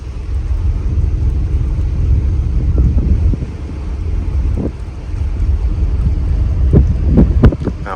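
A 1980s powerboat with a Ford turbo engine and a cracked engine block cruises at 5 knots, giving a steady low engine throb with wind buffeting the microphone and a few brief knocks near the end.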